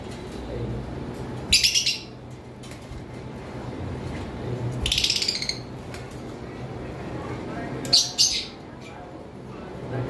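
A caged lovebird gives three short, sharp bursts of chirping, spaced a few seconds apart, over a quiet, low background rumble.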